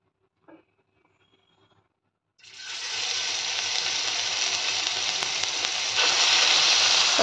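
Onion paste hits hot oil in a wok and breaks into a loud, continuous sizzle after a short quiet pause, holding steady and swelling slightly near the end.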